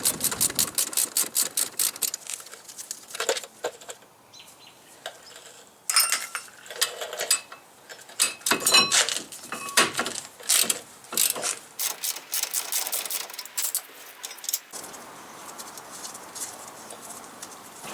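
Ratchet wrench clicking steadily in bursts while caliper bracket bolts come off a GM SUV's brake assembly, close and fairly loud, with pauses and metallic clinks between runs of rapid pawl ticks.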